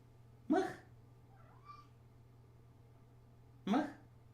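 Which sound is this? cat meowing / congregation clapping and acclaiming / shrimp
cat meowing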